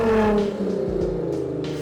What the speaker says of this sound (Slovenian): It's a V6 cylinder inside, and I think there is nothing between the exhaust and the engine because it's really loud.